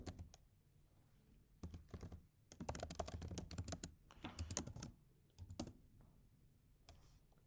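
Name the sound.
typing code on a computer keyboard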